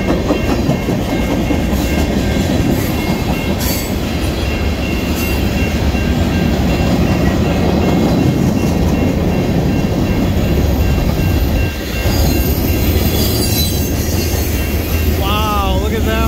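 Norfolk Southern NS 333 freight train, with an SD40-2 high hood unit trailing, rolls past close by at Rockwood with steady rumbling wheels, rhythmic clickety-clack over rail joints and faint wheel squeal, while a voice talks over it.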